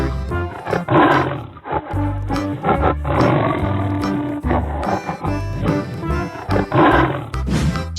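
A tiger roars in a 3D animal sliding video game, the loud growl layered over busy game music that plays throughout with no talking.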